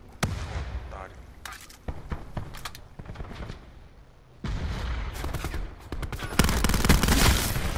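Gunfire in Call of Duty Black Ops 4 comes as scattered sharp shots and bursts, then denser, louder firing toward the end, with someone talking excitedly over the action.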